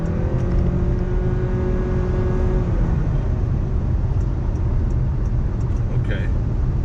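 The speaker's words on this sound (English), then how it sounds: "I take it then the gas engine just kicked in because I heard that" Gasoline engine of a Honda Clarity plug-in hybrid starting up while driving, a steady low droning hum with a rising whir under road noise inside the cabin, with people talking over it.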